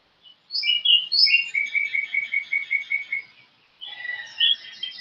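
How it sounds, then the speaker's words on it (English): A bird outdoors in nature sings a bright, rapid trilling phrase of repeated chirps, then pauses briefly and starts another, clear and fairly near in a quiet setting with no voices. "hearing the different bird sounds and stuff"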